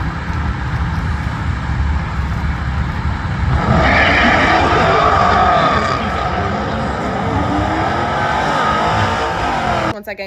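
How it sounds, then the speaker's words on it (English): Turbocharged Dodge Charger races a turbo Mercedes, a loud continuous engine roar that swells into a high turbo whine midway and holds, heard close from the car and ending abruptly. "I'll insert a video of me racing that turboed Mercedes, the first race that we had"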